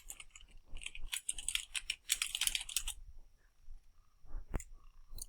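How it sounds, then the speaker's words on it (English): Rapid clicking keystrokes on a computer keyboard while a document is being typed, close and fairly quiet, in dense bursts with brief pauses and no talking. "we can start typing the rest of the document."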